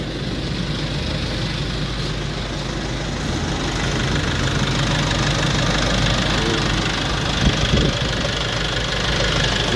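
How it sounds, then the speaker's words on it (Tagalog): A 2020 Nissan Navara diesel engine with 57,000 mileage idles steadily up close, giving a continuous low rumble with a faint ticking knock and no talking. "Pakinggan natin yung tunog ng makina ni boss."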